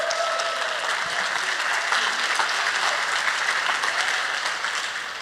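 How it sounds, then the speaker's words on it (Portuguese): A church congregation claps loudly in sustained, dense applause after a sermon, the clapping holding steady throughout with faint crowd murmur beneath. "Forte esse aplauso à palavra de Deus."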